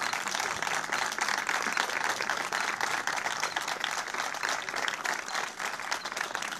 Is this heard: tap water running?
no